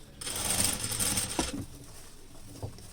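A sewing machine runs a steady stitching burst as elastic is sewn onto pant fabric, close and fairly loud, then stops abruptly after about a second and a half, leaving quieter handling sounds.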